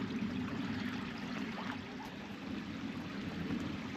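The River Bradford at Youlgreave flowing steadily, a continuous broad rush of water with a low rumble underneath, even and unbroken with no voices.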